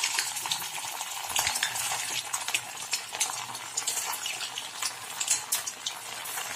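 Savoury Assamese pitha fry in hot oil in a wok, giving a steady, fairly soft sizzle with scattered crackles and occasional light utensil clinks nearby.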